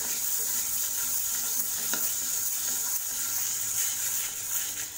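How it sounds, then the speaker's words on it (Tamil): Green moong dal is dry-roasted in a pan on a medium flame, giving a steady close hiss with occasional scraping stirs. The texture stays even throughout, with one sharper click partway through. "மீடியம் ஃப்ளேம்லேயே வச்சு இதை வறுத்துக்கலாம்"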